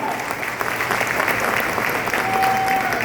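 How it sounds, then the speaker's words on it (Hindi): An audience at a direct-selling business meeting applauds, a dense, steady wash of clapping from many hands throughout. "मिस्टर यशवीर जी के लिए पर जोरदार तालियां।"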